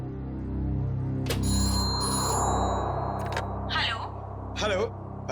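A telephone rings after a number is dialled in a Hindi crime drama, a steady electronic ring tone sounding for about two seconds over a low background hum, followed by short bursts of speech.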